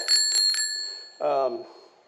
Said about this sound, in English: One other accessory that I did throw on it was this very big and loud bell.